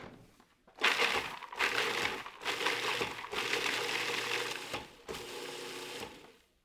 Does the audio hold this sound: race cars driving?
no